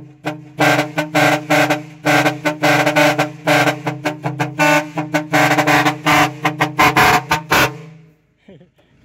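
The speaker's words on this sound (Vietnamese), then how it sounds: "Còi điếc tai luôn á." A loud air horn fitted to a Sifang 40hp 4x4 farm truck blasts in rapid, repeated honks for about eight seconds, a dense staccato burst of short toots, then stops.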